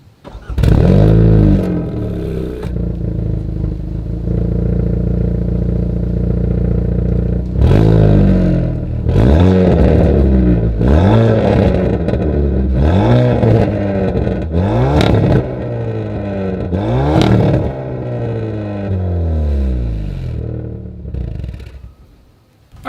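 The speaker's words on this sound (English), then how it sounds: "As always, here is that exhaust clip." A Hyundai Veloster N exhaust revs loud and close, with a sustained idle broken by a series of sharp repeated throttle blips that rise and fall, ending in a final settle.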